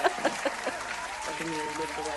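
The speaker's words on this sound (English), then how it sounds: "It's loud clapping." A crowd claps loudly and steadily in The Shapeshifting Detective video game, while someone speaks over the applause.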